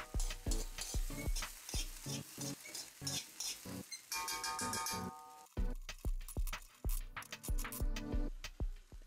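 Chopped garlic and a spoonful of pepper paste cooking in a pan, with loud rhythmic spoon scraping and knocking over a sizzle, the clatter repeating steadily throughout.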